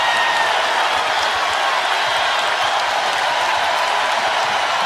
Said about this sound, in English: Caitlin Clark is urging this big crowd to get even louder.